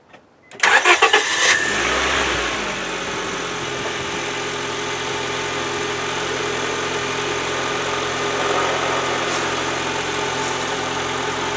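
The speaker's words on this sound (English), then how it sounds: "Well, it started the little Honda." A small Honda car with a bad battery cranks briefly and fires up on a Hulkman Alpha 85S jump starter, then settles into a steady close idle hum that runs on unbroken.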